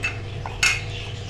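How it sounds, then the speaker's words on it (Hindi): A metal spoon stirs red chili powder through chicken pulao in a pot, giving a soft scrape and a sharper clink partway through over a low steady background hum. "अब इसको अच्छे से हम मिक्स कर लेंगे।"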